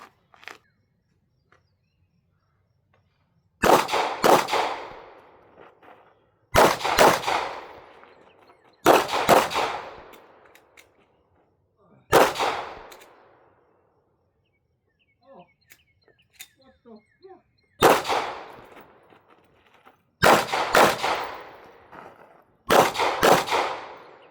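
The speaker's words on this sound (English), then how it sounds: "Alright, now we can shoot." Ruger RXM pistol fired at shooting practice in short bursts of two or three sharp, loud shots, separated by quiet gaps with faint handling clicks.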